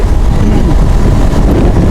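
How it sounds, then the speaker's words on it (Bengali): A steady low rumble of a motorbike riding along a village road, heavily buffeted by wind noise, continuous throughout with no pauses. "এই রাস্তাগুলোতে আসলে বাইক চালাতে"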